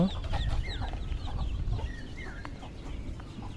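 Chickens cluck nearby inside a small, low-cost shed holding 15 birds, in short, irregular bursts, with some higher squawks and a low rumble of background noise.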